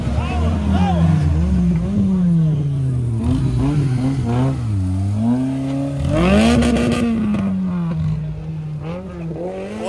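Off-road racing car in a trophy sprint race approaching with engine revving up and down, then sliding sideways, loud and close, with a commentator talking over it.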